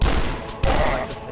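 Gunfire from the retro shooter Dusk: dense, loud bursts of shots with a heavy thump midway, firing rapidly across the whole short stretch with no talking.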